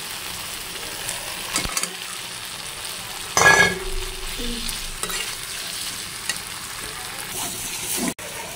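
Spiced curry sautés in a home kitchen pan with a steady sizzle, broken by scraping stirs and a louder burst of frying partway through.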